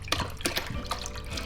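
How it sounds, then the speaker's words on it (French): Milk poured into a blender jar while making cornstarch crêpe batter at home, giving short splashy pours and drips in quick irregular bursts, close and fairly soft. "Tu verses sans regarder le mixeur."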